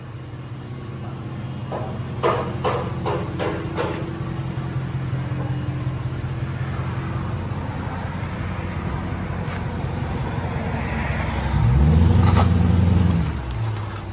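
A Dodge Charger R/T with its 5.7L Hemi V8 and aftermarket exhaust idles with a steady, deep burble, then gives one short, loud rev near the end before settling back.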